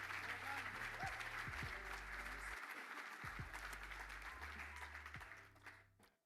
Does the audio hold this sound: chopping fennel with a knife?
no